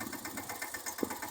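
Tractor engine idling and chugging with a steady mid-pitched rumble and rhythmic knock, close and continuous, with no voices over it.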